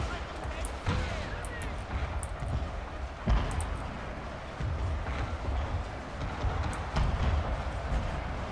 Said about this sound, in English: Is a big old mess of smoke and explosions.